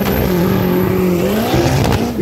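Race car engine in a drag race, loud and close, a sustained roaring drone with rising and wavering pitch as it accelerates, no voices over it.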